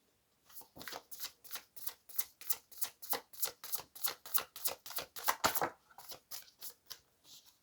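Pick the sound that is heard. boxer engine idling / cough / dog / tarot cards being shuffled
tarot cards being shuffled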